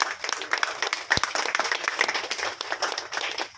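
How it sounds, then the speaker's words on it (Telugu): An audience at a Telangana stage event breaks into steady applause to welcome a director onto the stage, a dense patter of many hands clapping throughout with no pause. "క్లాప్స్ అందరూ వెల్కమ్ చేయండి"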